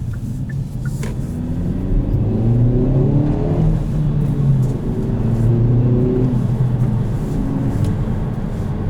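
A 2020 Kia Forte GT with manual transmission pulls hard up a highway on-ramp, a deep rising engine drone with road and wind rumble, heard steadily from inside the cabin.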